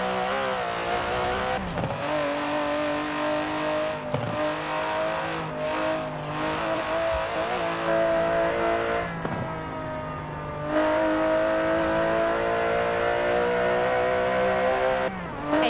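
An Aston Martin DB11's 5.2-litre twin-turbo V12 in Forza Horizon 4 roars continuously and loudly, climbing through the revs with brief dips at gear changes and a hint of tyre noise.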